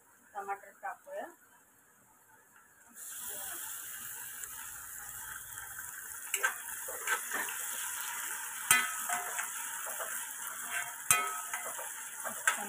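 Tomatoes hit hot oil with curry leaves in a pan, a steady loud sizzle that jumps up and continues with occasional stirring clinks, after a quieter start with some speech.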